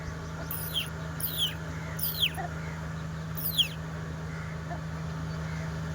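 A hen clucks four times in short, rising bursts in response to a call, fairly close, over a steady low hum and quiet outdoor background.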